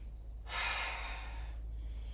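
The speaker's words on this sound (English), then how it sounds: "Take a nice deep breath here." A deep breath during an exercise class on balance movements, one long, close, airy inhale or exhale lasting about a second, alone over a low steady background hum.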